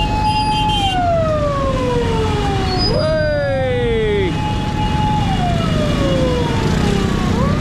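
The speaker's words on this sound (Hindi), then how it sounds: "एम्बुलेंस फंसी हुई है।" An ambulance siren wails close by, stuck in two-way street traffic, its tone sweeping up and down repeatedly over loud traffic and road noise.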